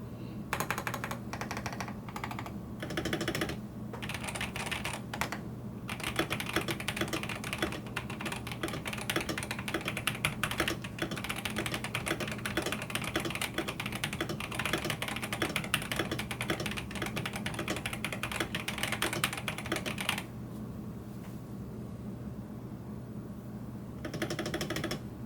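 Typing on a Vortex PC 66 mechanical keyboard modded with layers of tape: rapid, dense keystrokes with deep muted clacks in fast bursts, close up, a brief pause near the end before more keys, no voices.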